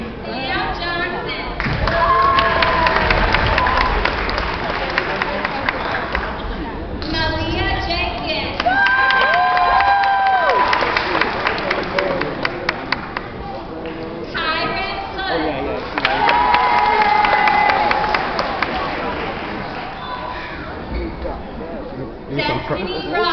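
A crowd of people shouts and cheers loudly and close, with raised voices overlapping and occasional claps and thumps rising and falling in waves.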